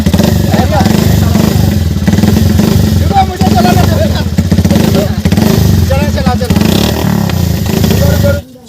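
Homemade ATV quad bike's engine running on its first test, loud rough motorcycle-like rumble and revving throughout, with people talking over it.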